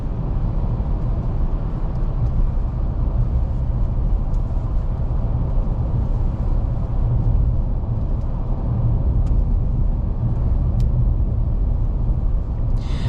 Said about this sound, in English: Kind of be quiet for a couple of seconds here so that you can hear the wind road noise.